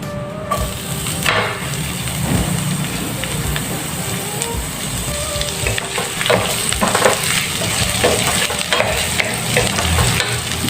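Garlic and onion sauté in a hot pan with a loud, continuous sizzle, broken by occasional clinks and scrapes of a stirring utensil close by.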